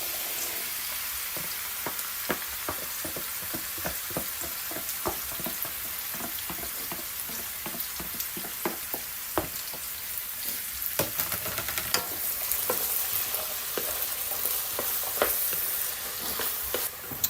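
Chickpeas hitting a hot pan with carrots and frying in a steady, close sizzle, with scattered crackles and pops through the whole stretch.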